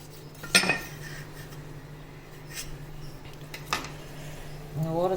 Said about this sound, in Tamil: இந்த ஓரெல்லாம் கட் பண்ணிக்கலாம்.